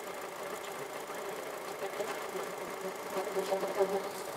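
A car engine runs steadily at idle during a wiring repair, a low continuous mechanical hum with faint rattling, slightly rising in level toward the end.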